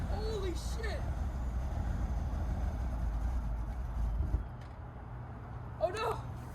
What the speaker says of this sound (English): So it revs at around 750, which is pretty normal.